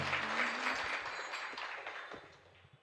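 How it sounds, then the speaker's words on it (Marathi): An audience claps for a performer at a kirtan gathering in a residential colony, a dense, steady patter of applause that slowly fades over a few seconds. "टाळी वाजवा चांगली कलाकारासाठी"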